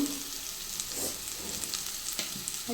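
Onions fry with salt in an uncovered pan, giving a steady, dense sizzle with faint crackles. The sound is close and continuous and no one talks over it.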